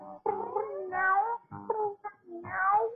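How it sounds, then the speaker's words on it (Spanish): A cat meows repeatedly in a series of drawn-out, wavering cries with short pauses between them, clear and close with no talking over it. "Qué gatita más hermosa."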